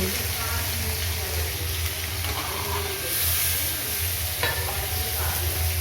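Cabbage curry cooks in a pan with ground ginger, cumin and coriander paste, giving a steady soft sizzle and hiss with occasional stirring scrapes, close and continuous, with faint voices in the background.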